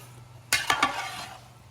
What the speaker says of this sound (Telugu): కలుపు కలుపు కలుపు.